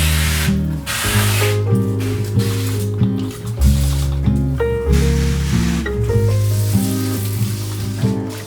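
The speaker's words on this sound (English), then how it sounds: "I'm gonna spray and I'll clean the bathroom afterwards" Cleaner is sprayed in a home shower in repeated hissing bursts, with steady background music playing underneath throughout.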